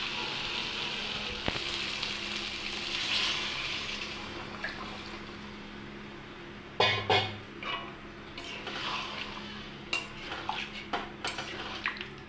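Cold water is poured onto potatoes frying in a pan, bursting into a sudden hiss and sizzle, followed by scattered clinks of a utensil against the pot, close and moderately quiet.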